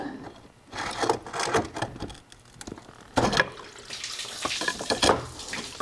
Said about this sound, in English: while that lets loose the rest of whatever water / coolant was left in it